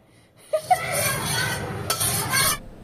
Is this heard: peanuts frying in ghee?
yes